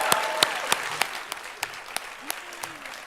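Audience applause for Senator Warren at an economics conference panel, a steady wash of clapping from a crowd with a few sharper claps standing out, fairly close and continuous throughout.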